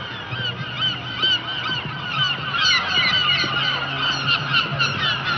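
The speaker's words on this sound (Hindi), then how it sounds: "पंछियों का झुंड कहीं जा रहा है" A flock of geese honks continuously in a dubbed Hindi disaster movie scene, overlapping calls from many birds forming a dense, loud chorus that holds steady throughout.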